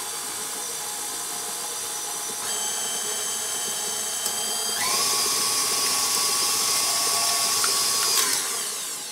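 An electric mixer runs on low-medium speed, beating oatmeal cranberry pecan cookie dough in a bowl, a steady whirring motor hum that rises in pitch partway through and continues without speech.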